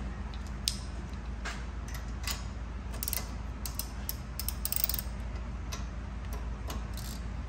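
A small gear wrench ratchets against a front strut on a 2015 Jetta, a quick run of light metallic clicks repeating in short bursts over steady background hum, with no talking.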